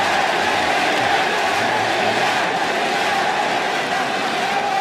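A large esports arena crowd at the League of Legends Season 4 World Championship roars and chants for the Taipei Assassins. A dense, loud wall of voices holds steady throughout.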